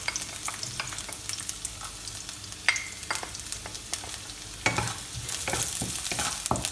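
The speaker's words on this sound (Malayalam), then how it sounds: "ഇനി നമുക്കിതിലോട്ട് നമ്മൾ ചോപ്പ് ചെയ്ത് വെച്ചിരിക്കുന്നത് ഗാർലിക് ആഡ് ചെയ്യാം." Chopped garlic, about a tablespoon, frying in hot oil while being stirred with a spoon, continuous crackling sizzle punctuated by repeated scrapes and taps, close and loud with no voices.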